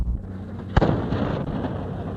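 Ceremonial Royal Cannon firing at a sailboat regatta event at One Main Place in Dallas, a single sharp booming blast that rolls into echoing crowd and outdoor noise.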